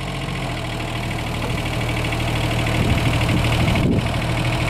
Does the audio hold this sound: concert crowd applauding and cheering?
no